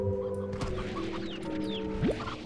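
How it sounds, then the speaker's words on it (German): Chickens in the video game Slime Rancher: a few short clucks and a rising squawk over a steady droning game soundtrack, no talk. "Noch mehr Hühner!"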